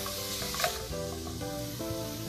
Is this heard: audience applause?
no